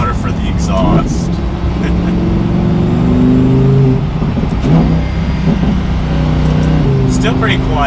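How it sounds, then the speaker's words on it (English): Lamborghini Huracan in sport mode, its exhaust revving in rising, sustained pulls with a steady engine drone throughout; someone talks over much of it. "We can go into the sport mode. It's a little bit louder for the exhaust."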